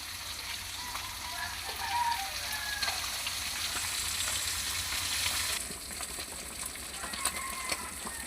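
Sinigang soup boiling in a pot, a steady bubbling simmer with a soft sizzling, crackling texture that holds fairly even throughout, close by and with no talking.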